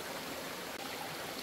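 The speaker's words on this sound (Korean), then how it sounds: "지금 제 옆에 개울에서 물을 끌어올리려니까" A small mountain stream flows steadily right beside the listener, a continuous broadband rush of water with no pauses, outdoors in a valley where water is being drawn up from the creek.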